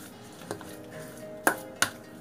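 Minced pork, minced fish and water chestnut being mixed in a bowl, heard as a soft background scrape punctuated by three sharp clinks of a utensil striking the bowl, the last two loud and close together.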